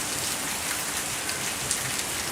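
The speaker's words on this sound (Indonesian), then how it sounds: "Wah, turun hujan." Steady rain falls in a continuous broadband hiss of drops on surfaces, even and unbroken throughout, with no voices present.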